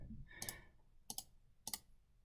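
A computer mouse clicks to select a cell in a Google Sheets spreadsheet, three separate sharp double clicks, quiet and close with no talking.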